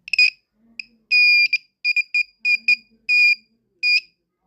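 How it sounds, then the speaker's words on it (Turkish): An electronic buzzer sounds in a series of short, shrill beeps and longer tones at irregular intervals, loud and alone. "Buzzer'ın sesi böyleydi arkadaşlar"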